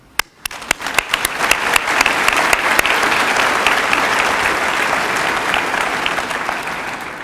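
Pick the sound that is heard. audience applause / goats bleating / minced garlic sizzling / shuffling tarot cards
audience applause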